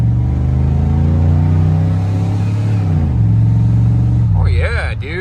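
A 1991 Chevy Silverado pickup with 399K miles accelerates hard while driving, its engine droning loudly and climbing in pitch, dipping briefly at a gear change, then pulling again, with a voice at the end.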